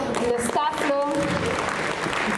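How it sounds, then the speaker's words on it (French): Convention crowd applauding costume staff at a fan convention in Montreal, a dense wash of clapping mixed with cheering voices and a brief tonal exclamation, moderately loud throughout. "On peut l'applaudir."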